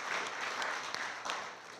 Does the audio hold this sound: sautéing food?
no